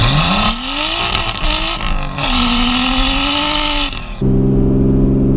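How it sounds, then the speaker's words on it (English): A modified Nissan R32 Skyline with a 3-inch stainless steel straight exhaust, no cats or boxes, roars and revs steadily up close, then drops to a deep, rumbling idle. "it has a 3-inch full stainless steel exhaust system with 0 cats, 0 boxes,"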